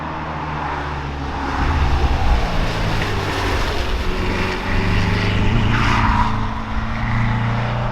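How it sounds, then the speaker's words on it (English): Inside a 1973 Porsche 914-4 cruising in fifth gear, the air-cooled engine behind the seats gives a steady, loud hum, with road and wind rush rising and falling. "Cruising along in fifth gear, just got that classic air-cooled hum behind your head."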